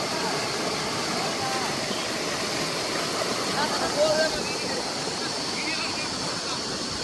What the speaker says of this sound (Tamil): எவ்வளோ ஃபோர்ஸாக வருது தண்ணி.